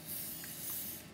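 Brake cleaner sprayed onto a bicycle brake: one steady, close aerosol hiss that runs unbroken for about a second before easing off.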